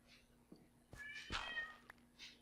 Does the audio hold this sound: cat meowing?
yes